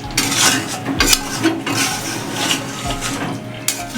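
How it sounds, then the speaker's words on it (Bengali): A spoon scrapes and clinks against a pan while stirring egg curry cooked with coconut milk and garam masala, giving steady close scraping with soft sizzling underneath. "গরম মশলা দিয়ে নাড়াচাড়া করে"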